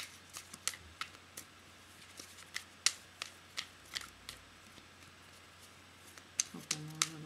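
Tarot cards are shuffled in a quiet room, a series of crisp riffling snaps at an uneven pace, close by.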